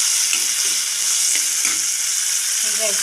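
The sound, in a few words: onion and tomato frying in oil in a pan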